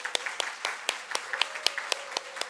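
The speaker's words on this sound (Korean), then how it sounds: "여러분 격려의 박수 좀 드릴까요?" A church congregation applauds during a Sunday service, with sharp, distinct claps in a loose, fairly regular rhythm, fairly close and not very dense.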